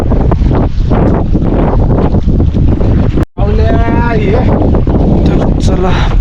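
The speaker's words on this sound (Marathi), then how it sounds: "आज थोडासा वारा जास्त आहे" Strong sea wind buffets a fishing boat out on deep water off the Bandra–Worli Sea Link, roaring and rumbling into the microphone as someone talks over it, broken by a brief sudden dropout.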